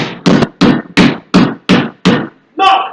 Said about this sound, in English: Knock, knock, who's there?